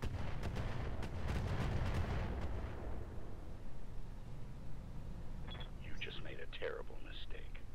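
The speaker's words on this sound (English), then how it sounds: "The vehicle's got a mortar, so if he does fire on Hopper, he's going to hit everybody around him" Mortar fire from a vehicle in the Roguetech mech game: dense, rumbling booms over the first three seconds that fade into a low roar, and faint voices come in near the end.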